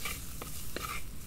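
Spices with salt and turmeric frying in a pan in a Bengali village kitchen, a steady soft sizzle broken by a few quick scraping stirs of a spoon, close and fairly quiet, with no talking.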